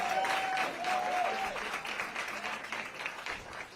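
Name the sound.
applause for election workers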